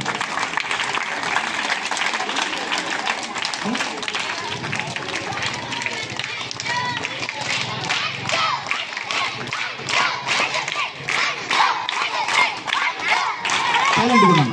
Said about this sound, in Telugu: ఒకసారి చప్పట్లు కొట్టన్నాను